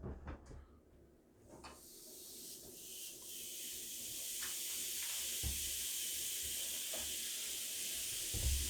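Bacon laid on a George Foreman smokeless contact grill, a quiet, steady hiss and sizzle that builds after a few soft clunks of placement.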